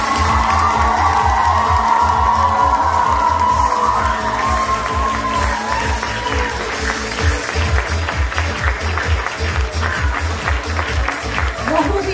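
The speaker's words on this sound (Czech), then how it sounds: "takže dětská potlesk pro všechny." Children applauding and cheering at a kids' circus show, a loud mix of clapping, shouts and whoops from a crowd, with rhythmic music thumping beneath and voices talking over it.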